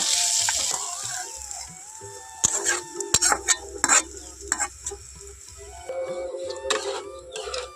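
Boiled potato is stirred into susuni greens frying in a pan, with a faint sizzle, clinks of a utensil against the pan and a few brisk scraping stirs in loose bursts.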